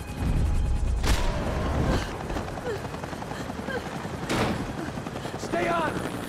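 Gunfire in the Max Payne 3 video game crackles in loud bursts amid a dense, noisy action scene, with voices calling out over the shooting.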